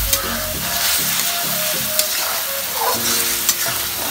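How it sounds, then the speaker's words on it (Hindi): Chopped tomatoes frying in masala in a pan while being stirred, a steady close sizzle with scraping stir strokes and occasional knocks against the pan. "तब टमाटर दो काटे"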